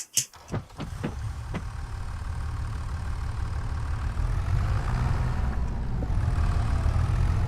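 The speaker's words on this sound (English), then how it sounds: "The tractor with the sensor." A tractor engine idles steadily in Farming Simulator 25, a low, even rumble that holds for several seconds after a few brief clicks at the start, with no voices over it.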